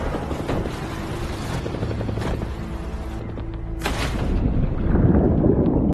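A helicopter's rotor thumps and roars steadily throughout, loud and close, growing heavier toward the end.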